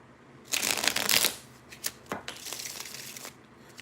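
Tarot cards being shuffled up close, a long crisp riffle followed by several shorter flicks and a softer rustling shuffle, with faint sounds in the background.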